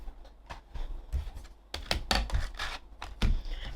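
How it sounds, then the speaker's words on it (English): White cardstock fed through a tabletop embossing machine, giving a series of close, crisp crunching and clicking bursts in an uneven rhythm that grows louder toward the end. "I'm just going to pop it in and we'll run this through our embossing machine"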